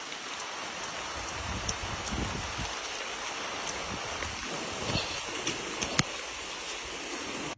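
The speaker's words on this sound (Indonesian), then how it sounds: "Ini kita buru-buru pulang karena udah mulai hujan, ini gerimis." Soft, steady drizzle patters continuously, with a few sharper drops tapping nearby against a quiet wash of falling water.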